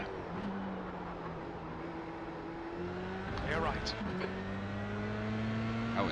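Dallara F3 race cars in the sim racing game iRacing, engine tones droning and shifting as cars run close, with a brief rising whoosh of one passing by; a voice speaks briefly over the racket.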